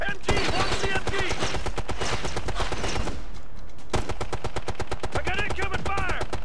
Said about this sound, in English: got incoming fire! Watch that gunner!